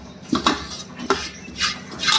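A metal cooking pot is handled with clinks and knocks while sorghum starch sediment is measured out for papad making in a home kitchen, several short close metallic taps scattered over a couple of seconds.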